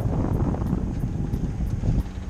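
A sailboat motors out of a bay in the Balearics toward Alcudia, into a 12-13 knot headwind over a slight sea; a steady, loud low rumble mixes with continuous wind buffeting, with faint regular ticks above.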